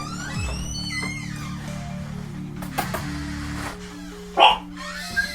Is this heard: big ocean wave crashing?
no